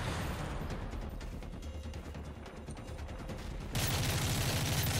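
Dense, continuous rattle of gunfire from Call of Duty Modern Warfare 3 Spec Ops mode, including a sniper rifle, with overlapping shots throughout and a louder burst of fire in the last second.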